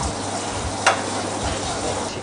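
Sliced fennel gently sautéing in olive oil with a knob of butter, a soft steady sizzle with a brief stirring scrape near the start.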